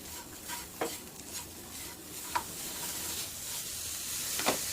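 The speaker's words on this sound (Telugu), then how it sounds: "పూర్ణం అనేది రెడీ అవుతుంది బెల్లం అంతా మెల్ట్ అయిపోయి లో ఫ్లేమ్లో పెట్టుకొని ఇలా కలుపుకోవాలండి" Spoon stirring melted jaggery filling in a pan over a low flame, soft quiet scrapes and occasional light taps against the pan under a faint steady hiss.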